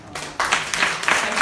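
Audience applause rising after a mental health awareness week talk, a burst of many hands clapping that swells and stays steady, moderately loud and close.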